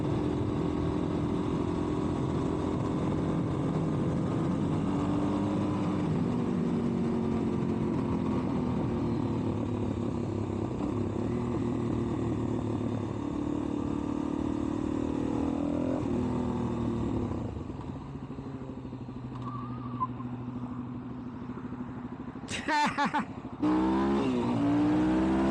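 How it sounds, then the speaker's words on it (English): Suzuki DRZ 400 Supermoto motorcycle being ridden, a steady engine drone with wind rumble that fades slightly near the end, followed by a couple of sharp handling knocks. "Well, so far I love this bike, man. This DRZ 400 Supermoto BSM."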